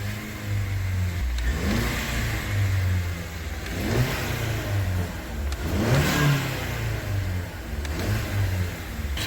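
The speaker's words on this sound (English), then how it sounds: "I'm going to rev the engine" A Ford Edge engine with an 8F35 transmission revs repeatedly during a transmission cleaner treatment, rising and falling in several surges over a steady idle, loud and close with no talking.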